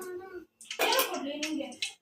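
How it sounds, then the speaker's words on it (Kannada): Water splashed into soybean pakoda batter and mixed by hand, a short burst of wet sloshing and squishing up close, with a voice speaking just before it. "ನೀರು ಹಾಕ್ಕೊಂಡು ಕಲಿಸ್ಕೋಬೇಕು ಹಸಿಟ್ಟನ್ನ"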